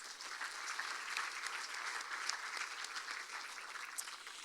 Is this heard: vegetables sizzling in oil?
no